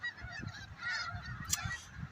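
Several snow geese honk in a ragged, overlapping chorus at moderate distance, with short nasal calls coming one after another.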